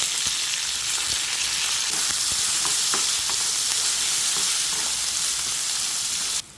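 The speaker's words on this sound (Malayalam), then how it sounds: "നമ്മൾ അരിഞ്ഞു വെച്ചിരിക്കുന്ന പച്ചമുളക് ഉള്ളി അതുപോലെ തന്നെ കറിവേപ്പില എല്ലാം ഇട്ട് കൊടുക്കുകയാണ്" Green chilies, onion and curry leaves sizzle with coconut in hot oil, a loud steady crackling fry with occasional stirring scrapes before it cuts off near the end.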